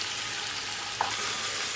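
Chicken pieces with salt frying on a high flame send up a steady, loud, close sizzle that holds evenly throughout.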